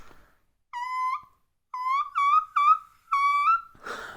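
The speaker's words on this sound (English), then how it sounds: "I was breaking between head voice and whistle there, which is why it sounded a little bit of a mess." A singer produces several short, pure high notes in separate bursts, each with a flipping, unsteady break between head voice and whistle register, followed by a breathy exhale.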